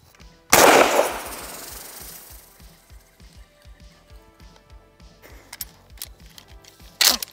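A Maverick 88 Cruiser pump shotgun loaded with mini shells fires two loud, sharp blasts about six seconds apart, close by, with clacking and rattling between them from working the pump action.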